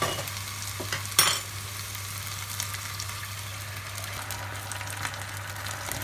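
Vegetables for broccoli Manchurian sauté in sauce over a high flame, giving a steady, close sizzle with a brief sharp clatter of utensil on pan early on.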